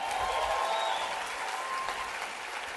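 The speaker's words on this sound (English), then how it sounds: "Can we give a big round of applause for Lori and Chris Harder?" Steady applause from a live audience at a conference-style event, sustained and fairly loud throughout with a dense patter of many hands clapping.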